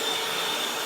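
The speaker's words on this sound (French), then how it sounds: "On allume l'aspirateur." Steady broadband whoosh of a workshop vacuum cleaner running as dust extraction for a Bosch BITURBO cordless miter saw set for a 45-degree cut, a constant close roar with a faint high whine and no pauses.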